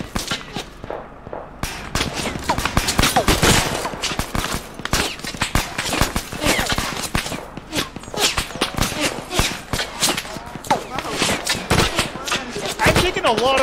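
Heavy video game gunfire, loud sharp shots cracking in quick irregular bursts over a long stretch, with footstep-like thuds mixed into the chaotic firefight.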